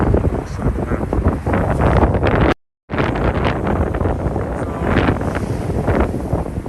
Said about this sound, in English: It's so windy, so my timber is shaking.